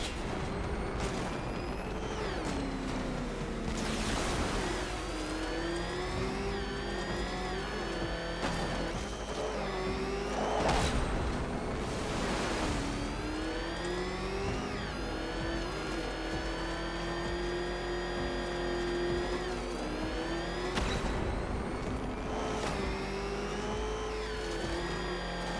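A battered car engine revs and roars in Batman: Arkham Knight, sustained and loud throughout, its pitch rising and falling with sharp bursts of acceleration over a steady game soundtrack.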